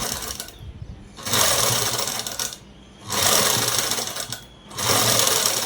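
A sewing machine stitches lace onto cloth for a long frock, running loud and close in three bursts of rapid, steady needle clatter. Each burst is separated by a short quiet pause.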